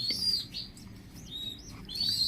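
Pigeons with their chicks at a pigeon farm give off thin chirps and tweets in short bursts near the start and end, over a steady low room rumble with no talk.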